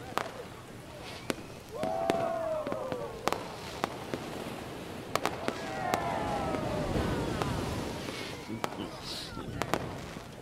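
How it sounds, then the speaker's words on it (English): Fireworks burst over a yacht party as a sitcom sound effect: scattered sharp cracks and pops, some whistling trails, fairly distant under a steady background wash. "He's throwing a party on a yacht. With a fireworks display."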